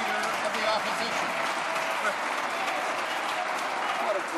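Members of the House of Commons break into sustained applause, a dense steady wash of clapping at moderate level that holds evenly throughout, with voices mixed faintly into it.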